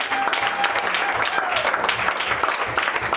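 A church congregation clapping together in steady, fairly rhythmic applause that fills the room, with a voice speaking faintly beneath the clapping.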